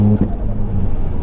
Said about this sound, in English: You can hear the dump valve